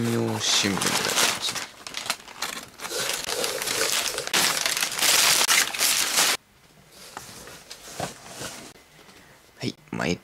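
Newspaper used as packing around a Sanwa Supply 50-disc DVD case is crumpled and crushed in loud, continuous crinkling bursts, then quieter scattered rustles, with a voice talking over it.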